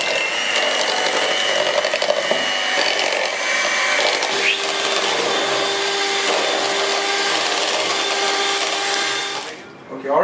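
Granulated sugar is whisked into chocolate cake batter, producing a steady, loud whirring drone that runs unbroken for nearly ten seconds before briefly dipping at the end.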